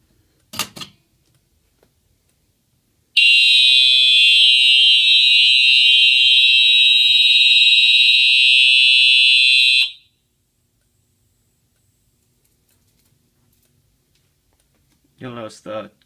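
Simplex Chevron fire alarm horn sounding during a system test, a loud continuous electronic blare lasting about seven seconds before cutting off, with brief talk before and after.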